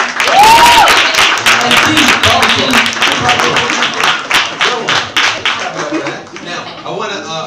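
Audience at a youth empowerment talk show applauding, a loud, sustained wave of clapping that begins at full strength and thins gradually toward the end, with a brief whistle near the start and voices mixed into the crowd noise.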